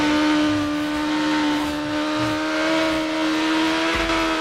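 Motorcycle engine droning steadily in Burnout Paradise, a sustained high whine holding near one pitch with slight rises, loud and continuous throughout with no talk.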